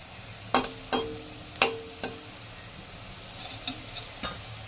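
Coconut and poppy seed fritters frying in oil, a soft, quiet sizzle under a handful of light utensil taps and scrapes against the pan.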